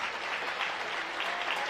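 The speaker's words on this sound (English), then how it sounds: "Riggs gets a nice round of applause" Steady round of applause from the crowd at a boys high school basketball game, even and continuous through the whole stretch, moderately distant with no voices on top.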